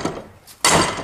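A rubber hammer strikes a heated nut once, a sharp, loud thud that rings briefly and then fades, preceded by a faint knock.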